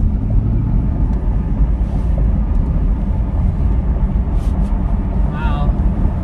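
A car is being driven, giving a steady, loud low rumble of engine and road noise throughout, with people talking over it.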